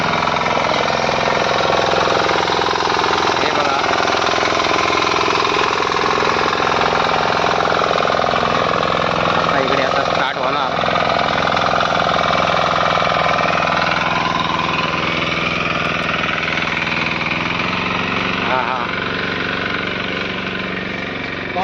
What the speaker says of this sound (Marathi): ट्रॅक्टरचा आवाज भरपूर येता